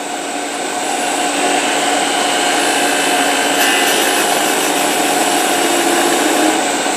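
A gouge riding its bevel as it cuts wood, likely on a lathe, giving a loud, continuous, steady hiss and rasp of shaving that holds unbroken throughout, close up with no voices.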